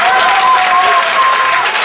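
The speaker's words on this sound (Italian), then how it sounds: "Un applauso di incoraggiamento ci vuole tutto per Mabo" An audience at a 2007 rock festival claps steadily in encouragement, dense and loud throughout the short burst, with no gaps or voices standing out.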